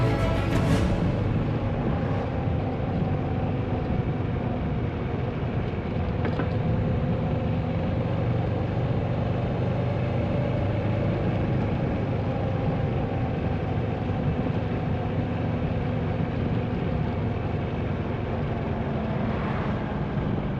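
Moto Morini 6.5 Scrambler motorcycle riding on a flat open road in interior Alentejo, Portugal: a steady engine drone mixed with wind rush, continuous and unchanging for about twenty seconds, heard from the rider's position with no talking.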